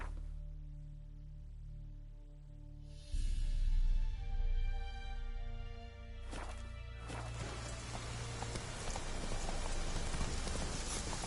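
Rain falls steadily on a surface while the horse Roach moves in a video game, with faint hoof clip-clop under the rain and the rain growing louder and denser partway through.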